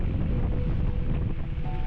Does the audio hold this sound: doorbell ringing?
no